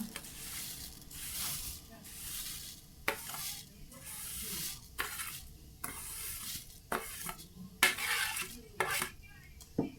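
Roasted vermicelli stirred in a pan over a low flame: repeated scraping, clinking strokes of a spoon against the pan over a soft, steady sizzle, close and fairly quiet.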